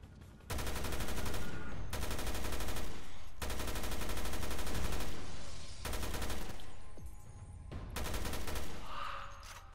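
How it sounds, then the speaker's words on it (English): Beelzebub machine gun from Resident Evil Revelations 2 firing in long sustained automatic bursts, loud and close, with short pauses between several volleys. "this is actually my special machine gun called the Beelzebub, which has armor piercing"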